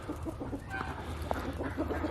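A rooster clucks softly on a farm with goats, short low clucks scattered over a steady murmur of background noise at a quiet level.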